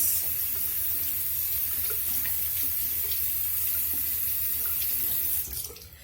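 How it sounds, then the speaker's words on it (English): A tap runs steadily into a sink while a makeup brush is rinsed under it, a close, continuous splash that cuts off abruptly near the end. "until your brush rinses clean. And when I am rinsing it, I'm opening up the bristles to rinse"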